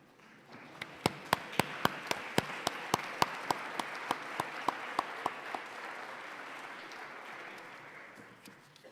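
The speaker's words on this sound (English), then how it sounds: "so we can give you a round of applause" Audience applause from people at a certified town and school recognition event, a broad wash of clapping with sharp individual claps standing out near the microphone, swelling then fading over several seconds.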